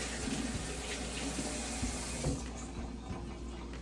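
Warm water runs steadily from a tap into a sink, a continuous splashing flow that eases off near the end.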